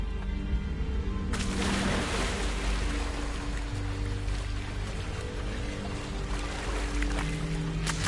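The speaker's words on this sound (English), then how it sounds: "The waterfall." Continuous rushing roar of a waterfall in the video game Hogwarts Legacy, a dense broadband wash that swells in sharply after about a second and then holds steady and loud, with a low musical drone underneath.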